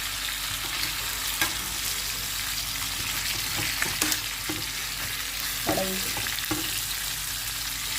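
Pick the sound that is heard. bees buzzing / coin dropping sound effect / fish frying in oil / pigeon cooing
fish frying in oil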